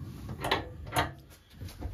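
A drawer in a travel-trailer kitchen is slid open and shut, giving two quick, close wooden-plastic knocks about half a second apart, then a softer rattle, with no talking.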